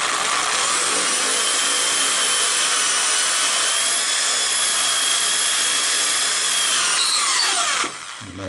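A power drill bores steadily through a wooden broomstick, a loud continuous high whine with cutting rasp that runs unbroken for about eight seconds before stopping abruptly.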